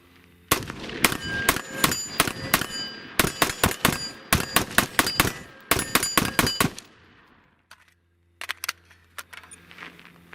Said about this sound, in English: I've got almost a full mag here, and we're gonna shoot this